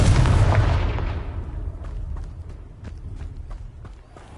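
A Confringo spell blast in Hogwarts Legacy, a loud burst that fades over a few seconds into a rumbling tail with scattered light impacts.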